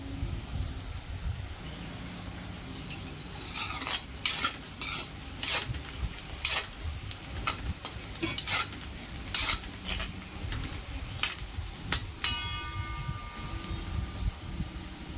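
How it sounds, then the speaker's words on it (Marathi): Onion sautéing in a pan until brown for a street-style paneer sabzi, a steady sizzle broken by repeated sharp scraping stir strokes and a ringing clink of the spoon near the end, close and moderately loud with no talking. "कांदा छान ब्राऊन होईपर्यंत परतून घेऊ।"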